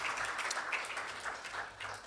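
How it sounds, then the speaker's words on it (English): At an awards ceremony, an audience claps in a steady, even wash of applause that sounds somewhat distant and soft and continues throughout. "Big round of applause for you guys."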